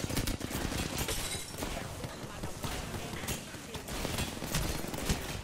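Rapid hip-fire gunshots in an Apex Legends-style shooter during a duct fight on Olympus, dense repeated bursts filling the whole stretch at steady loudness, with players talking over the shooting.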